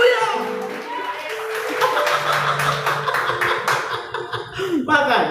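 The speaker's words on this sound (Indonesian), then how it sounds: "Berikan tepuk tangan yang meriah buat Tuhan." A church congregation claps steadily in praise, a run of rhythmic hand claps over sustained musical tones and voices, loud and close.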